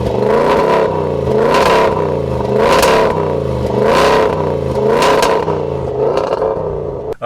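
A powerful 340-horsepower supercharged petrol engine in a 2014 Range Rover Sport revs hard in repeated surges, its deep roar rising and falling several times, loud and close with no voices.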